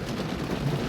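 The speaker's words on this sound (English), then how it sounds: "I'm entering a lot of rain now." Heavy rain pounds a car driving on a highway at speed, a dense continuous wash of water noise and road rumble with no voices.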